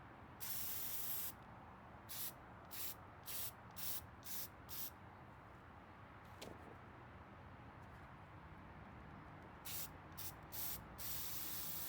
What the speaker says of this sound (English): Now start spraying on the flower.